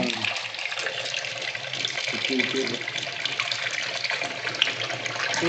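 Ghee is poured into a pot of mutton biryani, making a steady liquid trickle and splash that runs continuously and fairly close.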